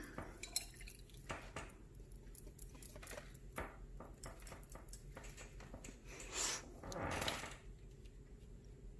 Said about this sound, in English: I'm going to go ahead and mix some lighter color up here.